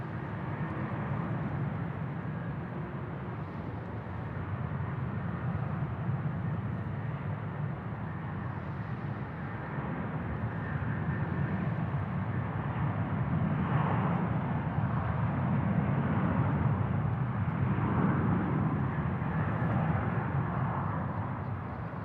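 A Velocity airliner on its takeoff roll at Sydney Airport, a steady, broad jet roar that holds loud and even throughout, swelling slightly toward the end, with no voices over it.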